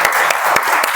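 Audience applause for certificate recipients at the close of a meeting, a steady burst of clapping lasting the full second without a break.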